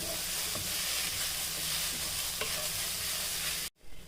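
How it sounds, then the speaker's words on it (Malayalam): Green chillies sautéing in hot oil and ghee, a steady loud sizzle with occasional stirring scrapes that runs continuously before cutting off abruptly near the end. "നന്നായിട്ട് നമുക്ക് എണ്ണ നെയ്ക്കകത്തിട്ടൊന്ന് വഴറ്റി കൊടുക്കാം ആ പച്ചമുളകൊക്കെ ഒന്ന് പോകുന്നിടം വരെ ഒക്കെ ഒന്ന് വഴറ്റി കൊടുക്കാം"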